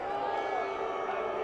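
Outdoor crowd noise rises at an ultimate frisbee game as spectators react to a foul call: a steady, fairly loud wash of voices and murmuring with some scattered shouts, no clear single voice standing out.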